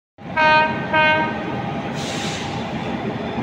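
The Kanchanjunga Express, running with LHB coaches, departs Malda Town station with two loud, close horn blasts, then a steady rumble of moving rail cars and a brief hiss of air.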